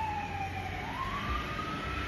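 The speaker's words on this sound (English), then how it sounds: "I kind of knew when I sat down that there was going to be a siren during this reading." A large fire ladder truck's siren sweeps and wails steadily nearby, its pitch rising and falling over a constant low rumble of traffic and engine noise.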